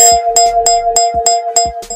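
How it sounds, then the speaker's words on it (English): A bright correct-answer bell effect plays, a rapid run of evenly spaced metallic dings over a sustained chime tone, loud and close with no talk. "I gotta hit that correct answer bell."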